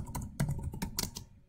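A short run of quick keystrokes on a computer keyboard, about eight light clicks in an uneven rhythm, close and fairly quiet with no talking.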